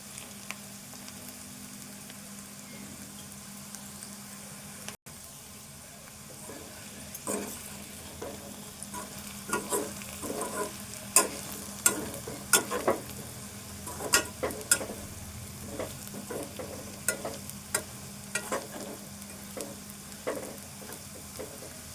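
Potato fry with coriander sizzles steadily in a pan, a constant frying hiss overlaid by repeated clicking scrapes of a spatula that grow busier and louder in the second half.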